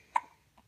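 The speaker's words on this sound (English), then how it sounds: "He has the hiccups." A small boy hiccups once, a sharp, fairly close burst followed by a fainter second catch a moment later, with nothing else in the background.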